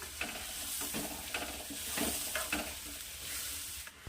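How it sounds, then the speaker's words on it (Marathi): Dal is mixed in a pot for waranfal, with quiet, repeated scraping and stirring strokes over a faint background hiss, no voices. "याला आता असं मिक्स करून घ्यायचं आहे"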